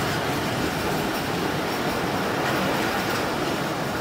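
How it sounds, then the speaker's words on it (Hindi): A train of the summer vacation special near Haripur station diverts onto a loop line, a loud continuous roar of wheels and carriage rumble with faint rhythmic rail clatter, heard from on board without talk. "यहाँ पे ट्रेन जो है अपनी लूप लाइन पे डाइवर्ट हो रही है"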